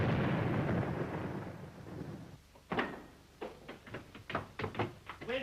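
A string of sharp, booming blasts arrives in an irregular series after a stretch of dull rumbling, some bursts close together, moderately loud.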